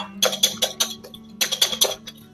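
Eggs with baking powder and vanillin whisked briefly in a bowl for Viennese waffle batter: two quick bursts of rhythmic, clinking whisk strokes against the bowl, close and crisp.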